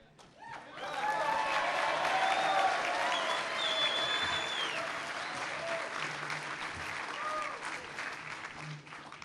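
Sustained audience applause fills a Lincoln Club of Orange County gathering for a speech by Fred Thompson, swelling quickly after a second and holding steady as dense clapping with some crowd noise until the end.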